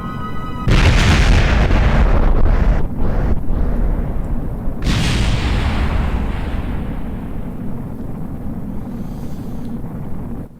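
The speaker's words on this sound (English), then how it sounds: "Ready for the explosion." A spacecraft explosion in the video game Kerbal Space Program: a loud, deep boom bursts in suddenly, followed by rumbling blasts that slowly fade into a long, low roar.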